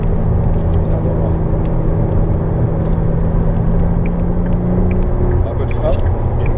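McLaren Artura at full throttle on a race track, a loud continuous engine drone heard from inside the cabin, steady and close, with someone talking over it.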